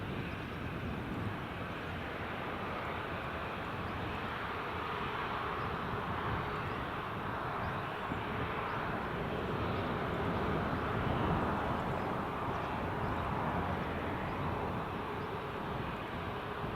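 A German Air Force jet airborne after taking off at Newcastle International Airport gives a broad, steady distant roar that swells slightly and holds throughout, with no voices.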